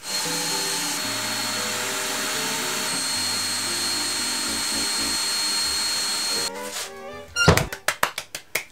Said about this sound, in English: let's shop vac it in here